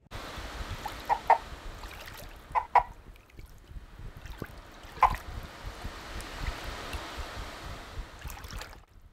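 A pitch-shifted handmade cuica, a Brazilian friction drum, squeaks out imitation chicken clucks in a Foley mix, a few short bursts spread over a soft watery wash of ocean drum and splashes.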